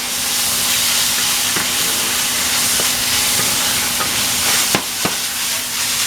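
Chicken stir fry in sauce sizzles with a steady hiss in a hot pan, broken by a few sharp scrapes and clacks of stirring, close and loud with no talking.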